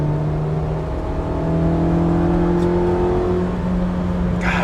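Inside a 2000 Honda Civic Si with a swapped JDM Integra Type R B18C engine, cruising at highway speed around 80 mph. The engine holds a steady drone with faint shifting tones over road and wind noise, and no one speaks.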